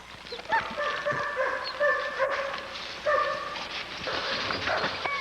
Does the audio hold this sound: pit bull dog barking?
yes